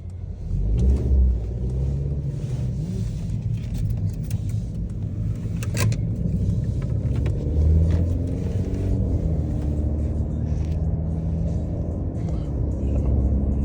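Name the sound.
car engine buzzing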